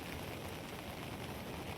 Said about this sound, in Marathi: खूप पाऊस आहे खूप